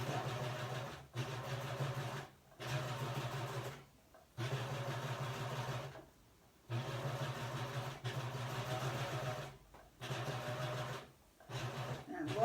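A sewing machine stitching fabric in bursts, a steady mechanical hum running for a second or two, pausing briefly, then starting again several times in a row.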